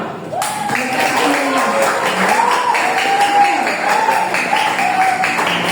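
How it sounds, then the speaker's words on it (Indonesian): An audience at an anti-smoking and drug-awareness talk applauds in a dense, continuous patter. Voices call out over the clapping throughout. "Ya, kita tepuk tangan dong."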